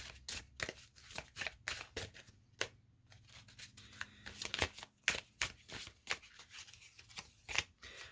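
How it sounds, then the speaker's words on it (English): Tarot cards being shuffled by hand, with a quick series of crisp riffles and soft slaps close to the microphone, the bursts irregular and fairly quiet. "Another shuffle here, and then if I don't get a card, I will take the top one."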